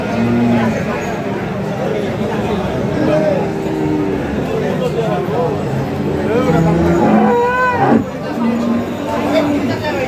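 Dairy cows with calves at a rural cattle market in Bangladesh, lowing in several drawn-out moos, some near and some farther off, over a constant crowd hubbub and chatter.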